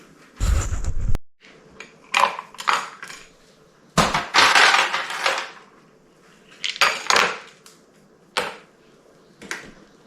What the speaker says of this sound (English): Add some ice cubes and you're ready for a refreshing drink.